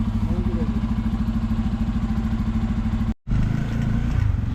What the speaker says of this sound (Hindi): तो यहाँ पे बाइक स्टार्ट हो चुकी है